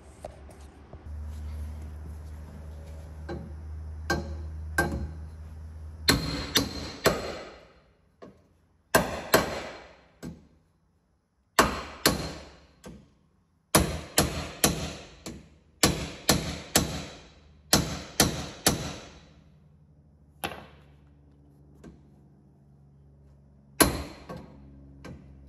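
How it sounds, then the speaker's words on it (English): Repeated sharp metallic hammer strikes on a metal bar set over bolts, single blows and quick bursts with pauses between, ringing briefly after each hit. "put on top of the bolts, and then obviously hit that down with a hammer"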